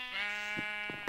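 A sheep in the Minecraft video game bleats several times in short wavering calls, close and clear with no talking over it.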